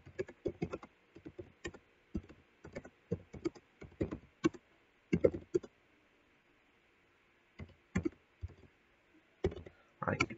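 Keys clatter on a computer keyboard in quick bursts of clicking taps, close and fairly quiet, with a pause partway through before the typing resumes.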